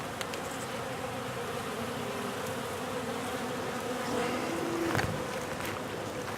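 Honey bees buzzing steadily around hive frames in an open bee yard, a dense continuous drone with individual bees passing close by, loud and without any talk.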